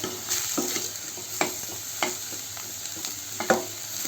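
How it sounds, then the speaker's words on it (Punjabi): Two onions fry in leftover ghee residue in a pan, a soft steady sizzle broken by several sharp scraping stirs spaced about half a second to a second apart, heard close and alone. "ਦੋ ਪਿਆਜ਼ ਮੈਂ ਭੁੰਨਾਂਗੀ ਵਿੱਚ"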